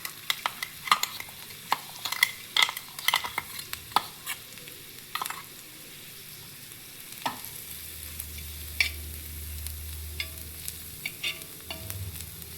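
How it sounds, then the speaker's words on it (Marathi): Thecha chili paste frying in a little oil on a flat iron pan, with steady sizzling and repeated scraping stirs of a spatula, some sharp clacks, and a low hum joining partway through. "त्यात थोडंसं तेल टाकलं आहे एक एक ते दोन टेबलस्पून आणि त्यामध्ये मी हा ठेचा टाकून घेणार"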